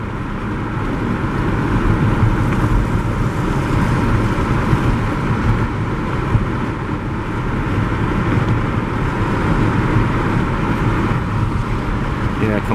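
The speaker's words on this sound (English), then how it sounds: "These electric taxi cabs, you really feel the acceleration, instant torque." An electric taxi cab pulls ahead through Pudong street traffic, a steady, close cabin rumble of road and wind noise holding even throughout with no spoken voices.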